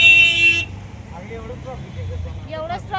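A loud, close car horn blares for about half a second in heavy road traffic in Hadapsar, then gives way to people talking inside the vehicle over a low engine and road hum.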